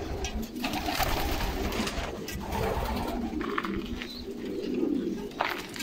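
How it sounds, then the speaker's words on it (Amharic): Pigeons coo in soft, repeated low calls, close and fairly loud, continuing throughout over light background noise. "እርግብ ይባላሉ"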